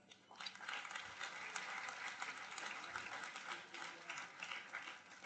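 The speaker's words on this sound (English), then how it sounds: "A big round of applause, please." Faint, distant applause from an orientation audience at a university event, a steady patter of clapping lasting several seconds at low volume.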